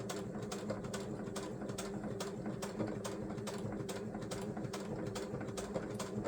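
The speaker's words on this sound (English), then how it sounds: "a quick stitch down the seam" A sewing machine runs a quick stitch down the seam of a scrap fabric roll, a quiet, steady mechanical whir with rapid, regular clicking pulses all the way through and no voice.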